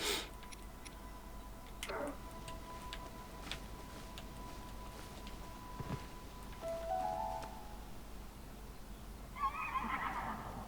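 A moth horse in a video game whinnies in short bursts toward the end, after a stretch of faint ticking and clicking game sounds. The calls are moderately clear and there is no talking.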